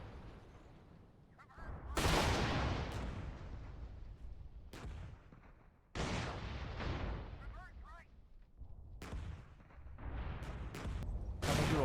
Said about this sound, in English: Artillery fire is falling on our position,